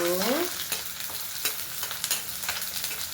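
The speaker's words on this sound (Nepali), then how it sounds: "प्याजलाई चाहिँ हल्का भुट्नुपर्छ।" Onions sizzle and crackle as they lightly fry in a hot pan for a pork dish, with scraping stirs and a few clinks of a utensil against the metal.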